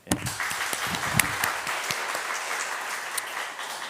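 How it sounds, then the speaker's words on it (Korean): A church congregation bursts into applause during a service, a sharp start followed by steady, dense clapping with a few louder individual claps, fading slightly toward the end. "이 시간 다시 한 번 더 우리 모두가 하나님 앞에 감사와 영광의 박수를 올려드리겠습니다"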